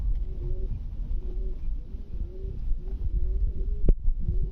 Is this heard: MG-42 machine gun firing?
no